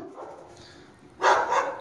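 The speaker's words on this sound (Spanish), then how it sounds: "Ese sí ladra." A dog gives a short burst of barking near the end, loud and close after a quieter stretch of faint background noise.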